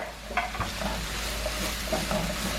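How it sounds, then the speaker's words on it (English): Diced jalapeno sizzling and frying in a pan for keto refried beans, a steady close crackle with a few stirring scrapes, no talking. "to add in the diced up jalapeno that we cut up"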